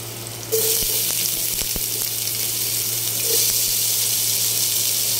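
Garlic and onion hit hot oil in a pan with a sudden sizzle that settles into a steady, hissing fry, with a few light clinks of a utensil early on.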